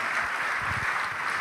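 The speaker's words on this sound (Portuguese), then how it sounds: "Vamos aplaudir mais ao nome de Jesus." A church congregation applauds, a brief dense patter of clapping heard alone at moderate volume.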